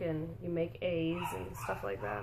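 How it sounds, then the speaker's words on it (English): A dog barks and whimpers indoors during a storm, with short yips and whines mixed under a person's continuous nearby talking. "Sorry for the dog."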